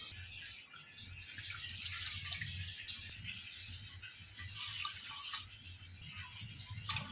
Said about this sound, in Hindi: अभी हम इसके ऊपर 4 कप पानी डालेंगे